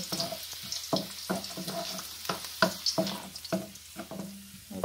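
Garlic frying in oil in a pan before minced beef goes in, a soft hiss under frequent scraping, tapping stirs of a spatula in an uneven rhythm, close and moderately quiet.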